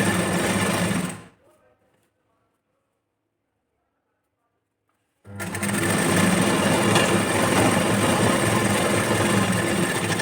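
A sewing machine stitches a blouse sleeve in two loud, steady runs of rapid mechanical whirring, broken by about four seconds of near silence in between, close and without voices.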